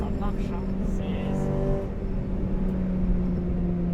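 Honda CRX EE8 engine droning steadily while driving, a continuous low hum with harmonic tones, loud and close throughout, with people talking over it.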